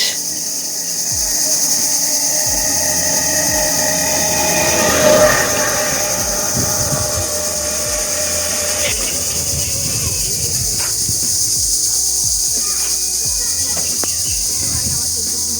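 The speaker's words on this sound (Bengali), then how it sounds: "দেখো ঝিঝি পোকার কি আওয়াজ।" Steady high-pitched insect chirring drones throughout, with a rumbling train passing in the background and a brief louder swell midway.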